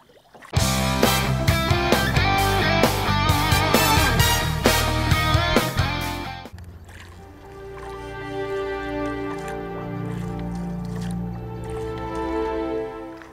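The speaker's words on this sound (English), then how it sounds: "Paddle in a sampan with us." A sampan is paddled along a river through the limestone landscape of Trang An, Vietnam. Music plays at first, then gives way to soft paddle splashes, drips and trickling water close by.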